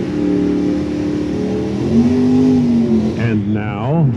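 A Vega drag race car accelerates at Tucson Dragway, its engine note rising in a steady, loud pull before a sharp shift and climb, while an announcer talks over it.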